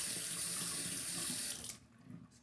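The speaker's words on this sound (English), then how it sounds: "Just wetting the stone a bit" Tap water runs in a steady hiss and splash onto a Shapton 1500 whetstone, close and fairly quiet, then cuts off abruptly leaving a few faint drips.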